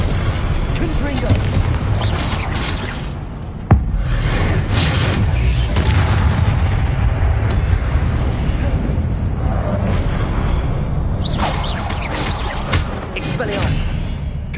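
Repeated Confringo blasting-spell explosions from the Hogwarts Legacy video game, heavy booming bursts layered over dense, continuous game noise and voice lines, with one sharp crack standing out partway through.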